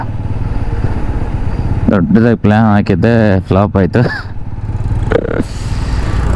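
A motorcycle on a road trip through Karnataka, ridden with the rider's mother, hums steadily underneath as someone talks over it for most of the stretch.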